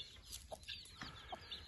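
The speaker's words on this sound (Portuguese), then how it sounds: "A outra galinha pastando aqui, ó." A free-range hen clucks in a rural farmyard with soft, intermittent calls, fairly faint and at a moderate distance, over quiet outdoor background.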